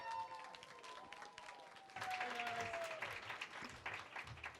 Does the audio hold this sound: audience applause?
yes